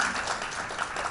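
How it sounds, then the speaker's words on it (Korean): Audience applause at a youth education forum, a steady wash of many hands clapping at moderate distance with no talk over it. "큰 용기를 내주신 김다경님한테 큰 박수 부탁드립니다"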